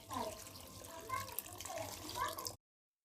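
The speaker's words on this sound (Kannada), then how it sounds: "ನೆಕ್ಸ್ಟು ನೀರು ಹಾಕಬೇಕು" Water poured into a pot of sambar with salt and oil, a steady splashing pour running for about two and a half seconds at close range, with a brief gap in the middle.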